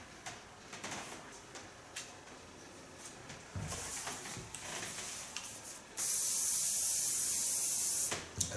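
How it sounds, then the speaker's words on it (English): Conditioner spray misted onto hair during a haircut, a loud steady hiss lasting a couple of seconds that follows softer bursts and light rustling, with no talk. "A bit conditioner spray on the hairs"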